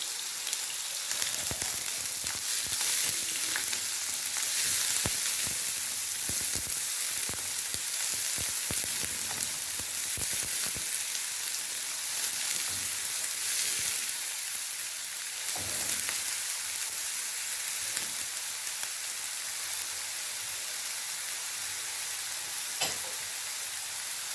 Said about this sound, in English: I will add my onions.